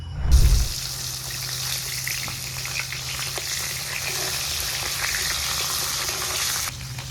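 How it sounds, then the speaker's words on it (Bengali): Rohu fish pieces frying in mustard oil in a wok, a steady dense sizzle and crackle running throughout after a brief louder clunk at the start, close and continuous with no talking. "কড়াইতে সর্ষের তেল দিয়ে নেই মাছগুলো ভাজতে বসিয়ে দিয়ে"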